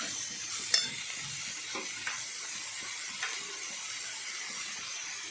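Ginger-chili paste and sugar are stirred into a vegetable cutlet mixture, making a soft, close, continuous sizzling hiss. A few brief scrapes and knocks from the spoon rise above it.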